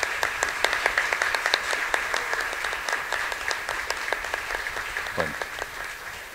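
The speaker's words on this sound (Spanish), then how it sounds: "Un aplauso para la Virgen Niña." A church congregation applauds during a Mass for the Nativity of the Virgin Mary, rhythmic clapping that starts together and stays steady, moderately close, with a faint voice briefly underneath.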